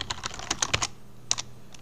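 Rapid typing of CSS code on a computer keyboard, a dense burst of key clicks for the first second, then a pause and a few more scattered keystrokes, close and fairly quiet.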